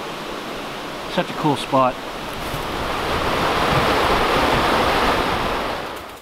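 A river's rushing water makes a steady broadband roar that swells and holds, with someone briefly speaking over it early on before the water sound dominates alone.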